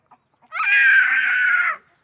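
A rooster lets out one drawn-out, harsh call of just over a second, close and clear against near silence, with a soft tap just before it.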